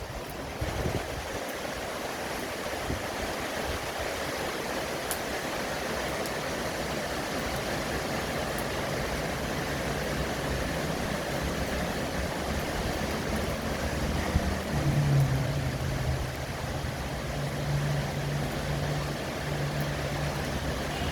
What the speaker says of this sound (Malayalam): വെളിച്ചം കുറവാണ് അത്രത്തോളം ഭയങ്കര മഴയാണ്